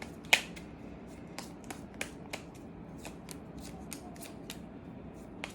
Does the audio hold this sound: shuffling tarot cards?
yes